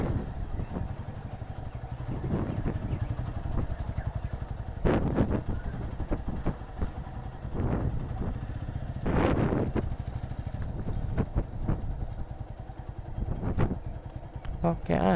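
A motorcycle turns into a narrow alley in a village near Cirebon. Its engine gives a steady, close rumble with small surges, and a rider talks over the engine noise.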